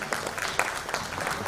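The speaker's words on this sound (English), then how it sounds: "For all the ones who are continuing the applause, I think everyone can encourage one another." Scattered audience applause at an event, a loose patter of claps at moderate distance that carries evenly without voices over it.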